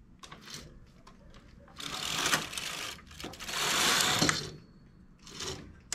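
A domestic knitting machine carriage slides to the left across the needle bed to knit a row, giving several rasping mechanical sweeps and clicks that rise and fall at moderate, close volume.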